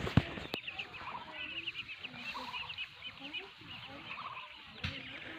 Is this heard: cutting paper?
no